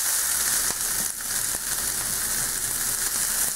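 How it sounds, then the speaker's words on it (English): Onions frying in a pan for a low-carb kale frittata, giving a steady close sizzle with a few soft stirring scrapes and no talk. "you want to stir it so that the onions that you have on the bottom come to the top, so they don't burn"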